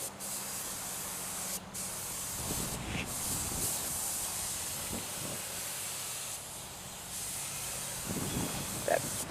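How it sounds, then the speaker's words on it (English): Spray gun laying epoxy primer onto an Allis Chalmers 310 tractor, a continuous close hiss with brief pauses and resumed passes, no talk. "That first coat of epoxy primer went on nice."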